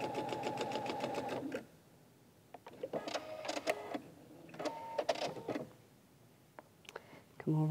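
A sewing machine stitches a log cabin quilt block in quick bursts of rapid, even needle clatter separated by pauses and small clicks, close and clear.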